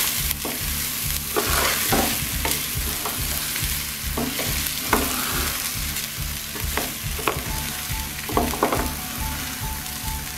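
Rice frying and being stirred in a pan for bhuna khichuri, a steady close sizzle with repeated scraping strokes of the spoon across the pan, no talk.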